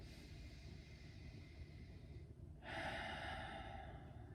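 Slow, quiet breaths drawn during a yoga session as the person stands upright with eyes closed, soft and close, with a brighter, airier exhale rising partway through.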